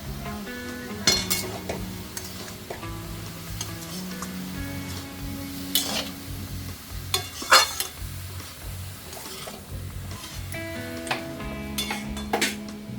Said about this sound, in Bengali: এদিকে আমি এটা একটু সাতলে নিচ্ছি